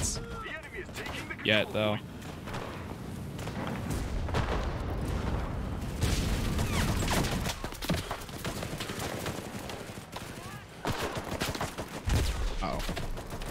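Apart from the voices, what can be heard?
gunfire in video game Enlisted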